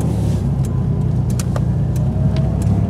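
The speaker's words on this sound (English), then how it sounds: "We just have a fan clutch that's locked." A locked fan clutch roars under the hood of a 1996 Dodge Dakota with a 3.9L V6, a loud, steady low engine drone running at idle with a few faint clicks and ticks over it.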